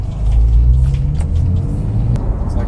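A Porsche 911 of the 991 generation with a COBB tune drives along, a loud steady engine and road rumble heard from inside the cabin, with no one speaking.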